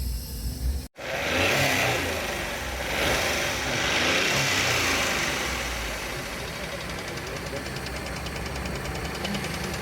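A car fitted with a newly changed LPG kit and running short of proper RPM starts after a brief cut, then runs roughly with uneven revving and knocking, close by, with people talking over it.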